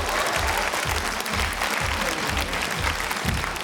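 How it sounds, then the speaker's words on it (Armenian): A studio audience at the X-Factor Armenia gala show claps in unison, a loud rhythmic burst of synchronized claps repeating at a steady beat, crowd noise filling the gaps. "Կարելի է ծափ տալ իհարկե"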